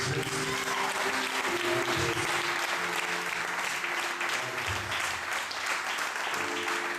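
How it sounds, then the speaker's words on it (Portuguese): A church congregation applauds for Jesus during a worship service, with steady, dense, loud clapping filling the whole stretch along with some voices and sustained tones underneath. "Eu quero que você agora dê uma salva de palmas para o Senhor Jesus."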